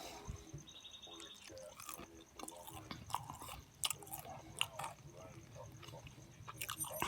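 Close crunching bites into a crispy Popeyes fried chicken wing, with irregular wet chewing and louder crackling snaps scattered through the stretch.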